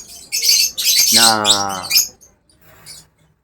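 Pet African lovebirds of the blue and blue opaline kind, loud close squawks and harsh chattering calls in a short burst, with a faint call after a pause.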